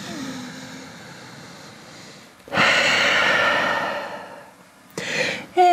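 Deep, drawn-out breaths during a yoga session, held in downward dog, with a long strong exhale in the middle and a further breath near the end, close and otherwise quiet.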